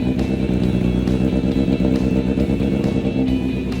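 A big motorcycle engine on a cold start idles loud and close at a fairly high, steady rumble with a rough, clattering pulse and no voices.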